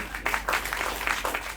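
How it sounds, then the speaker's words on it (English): Audience clapping at a cancer-survivor celebration event, a short burst of steady, moderately loud applause with no talk. "while you clap, I'll pick up the poem"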